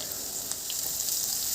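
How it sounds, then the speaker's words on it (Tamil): Chopped onions fry in a pan for a Tamil-style goat blood fry, giving a steady, close sizzling hiss that runs without a break and with no voices. "கொஞ்சம் நேரம் நல்லா வதங்கட்டுங்க."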